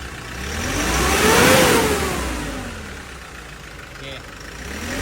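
A Hyundai Porter with a D4CB diesel engine runs steadily after starting, its loud rumble swelling in the first two seconds and then settling at a lower level.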